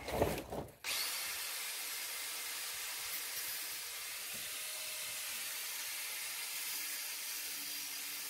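An angle grinder cuts through the exhaust muffler of a Mercedes C-Class / CLK 200 Kompressor, giving a steady, loud, continuous grinding hiss that holds evenly for several seconds after a brief start, with no talking.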